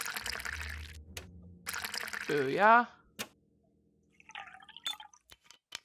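Water pours in a puzzle video game set in a photolithography lab, a brief burst of trickling, dripping splashes following a man's loud spoken exclamation, then quiet.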